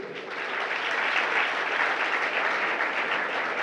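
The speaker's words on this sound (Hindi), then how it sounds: "इसलिए तू ताली बजा रहा है" An audience at a Jain religious discourse breaks into sustained applause, a dense, even roar of many hands clapping that builds quickly and holds steady, with no speech over it.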